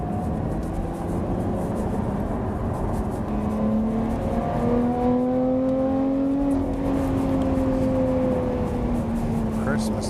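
A supercharged Lotus Evora GT430 drives along a challenging B road near 3,000 rpm, its engine a smooth rising and falling drone with pitch sweeps as it pulls through gears, under a voice.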